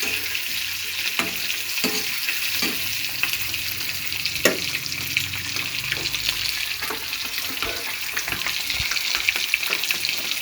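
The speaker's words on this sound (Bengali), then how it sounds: "হয়ে গেছে আমার ডিমটা ফ্রাই করে, আমি উঠিয়ে নিচ্ছি।" Eggs lightly frying in a pan for a chickpea dal and egg bhuna: a steady, close oily sizzle throughout, broken by scattered clicks and scrapes of a utensil moving them, with no voices.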